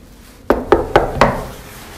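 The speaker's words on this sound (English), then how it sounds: "I'm going to knock on Lee's door" Four firm, evenly spaced knocks sound on a door, close and loud against a quiet background.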